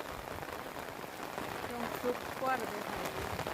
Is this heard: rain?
yes